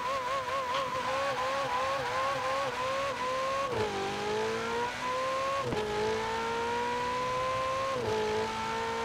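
Ferrari Portofino, a seven-speed convertible in Forza Horizon 4, revving hard on a highway top-speed run, its engine note climbing steadily and dropping sharply at each upshift, loud and continuous with no voices.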